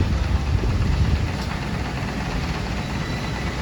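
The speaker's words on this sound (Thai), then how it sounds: "นี่คือเรือท่องเที่ยวครับของบริษัท" A tour boat, a long-tail boat run by a Chao Phraya river boat company, idles at Sathorn Pier on the Chao Phraya River in Bangkok, producing a steady low engine rumble with a constant hum throughout.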